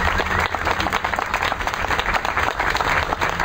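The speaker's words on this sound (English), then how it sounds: "A big applause for both of them and their life." At a star ceremony an audience applauds loudly and steadily, a dense wash of many hands clapping throughout with no gaps.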